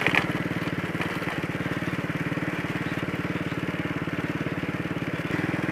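A Honda Astrea Grand motorcycle rides along a rural village road, its small engine putting out a loud, steady, rapid chugging drone that holds nearly constant throughout.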